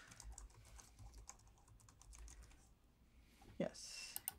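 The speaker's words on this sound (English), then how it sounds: "you might want to get the keyboard to type Ramune" Fingers tap on a computer keyboard while the name of a Japanese soda is typed into a search, a run of soft, quick keystrokes near the microphone with faint background room noise and voices nearby.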